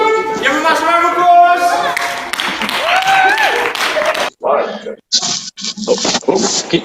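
An online audience claps over a video call, with scattered, choppy bursts of clapping that mix with a talking voice and then come in uneven spurts toward the end.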